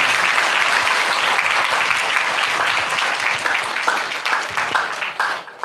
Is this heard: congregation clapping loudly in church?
yes